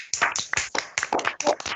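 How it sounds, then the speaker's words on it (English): A small class of students clapping for themselves, a short burst of uneven, fairly close handclaps with a few individual claps standing out. "All of you clap for yourself."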